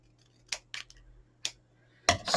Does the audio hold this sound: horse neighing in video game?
no